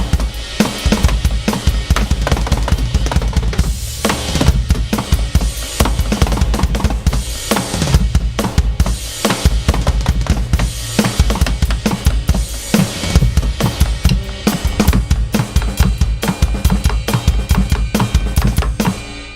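A drum kit is played live in a frantic 1960s style, with a loud, nonstop wash of crashing cymbals and rapid snare and tom fills, close and alone, with no talking.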